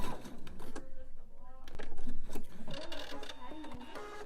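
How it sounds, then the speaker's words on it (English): A sewing machine top-stitches zipper tabs onto mesh fabric, running in short bursts of rapid needle clatter under a person talking nearby. "sew exactly over the same sew line that I did before, and I'm just going to top stitch these zipper tabs down."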